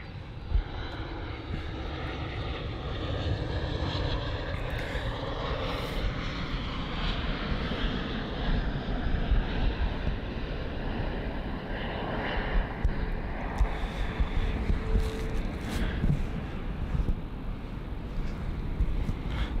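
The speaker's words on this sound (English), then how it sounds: "That was the Ryanair I did announce before though." A Ryanair airliner at Copenhagen Airport roars past in a sustained, broad jet rumble that stays fairly loud and steady throughout without fading, heard alone.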